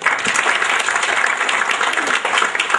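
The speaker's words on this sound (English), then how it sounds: "I request for a round of applause for both of them." A room full of people gives a round of applause at a business event. The clapping is dense, loud and continuous from start to finish, with no pauses.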